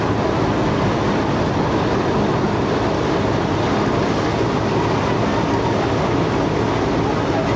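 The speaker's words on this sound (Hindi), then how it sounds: "चलें अब PHA 20 के बिल्कुल पास आ गए और इसकी घन गरज सुनेंगे।" The 125UP Lasani Express passes close by on the railway track on its Lahore to Baddomalhi run, a loud, unbroken roar of wheels and wagons rumbling past for the whole stretch.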